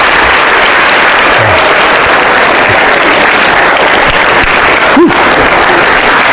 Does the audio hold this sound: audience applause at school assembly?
yes